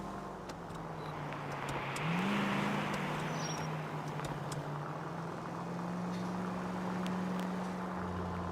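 A car engine hums steadily at close range with a rise in pitch around the two-second mark, like a gear change or light acceleration, then settles into a continuous even drone with road noise.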